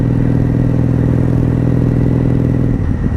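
A wrecked 1997 Honda Magna VF750C motorcycle engine runs at a steady idle close by, a loud, even rumble with a fine rhythmic clatter and a slight dip near the end.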